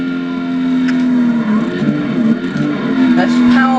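A Ford Shelby Mustang GT500, rated at 500 bhp, holds a steady, loud engine drone with a constant low tone, running under a voice for the whole stretch.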